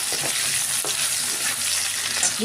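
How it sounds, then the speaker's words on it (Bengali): Boiled potato frying in hot oil in a pan for banana kofta curry, a steady close sizzle with occasional stirring scrapes throughout, no voices. "সেদ্ধ আলুটাকে একটু ভেজে দিলাম"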